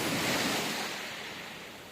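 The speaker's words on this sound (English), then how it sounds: "Now I just have waves." Ocean waves wash in a steady, soft hiss of surf on the coast of the Scottish Highlands, a single swell slowly receding; no voices, just continuous water noise.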